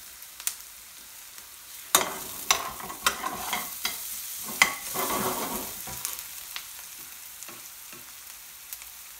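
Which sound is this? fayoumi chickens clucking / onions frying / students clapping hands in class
onions frying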